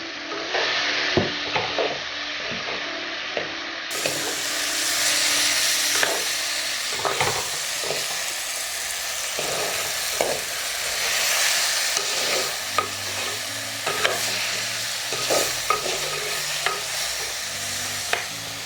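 Brinjal (wambatu) sizzles as it is stirred and fried in a pan for a curry, a continuous close frying hiss punctuated by regular scraping and knocking strokes of the spoon, with no talking.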